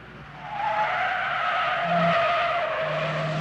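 A 1973 Chrysler New Yorker Brougham engine revs hard while tires screech and skid on track pavement, loud and continuous throughout.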